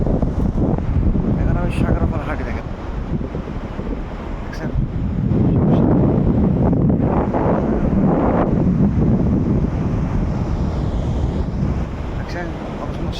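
Sea waves and gusty wind on an Omani beach, a continuous roaring surge with rising and falling swells and wind buffeting the microphone, up close, while someone talks now and then.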